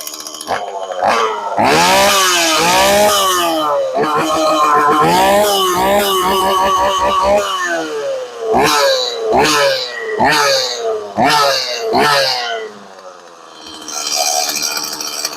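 STIHL MS180c chainsaw engine, just fitted with a swapped carburetor, running and revving up close, rising and falling through several loud bursts with a pause and short blips near the end.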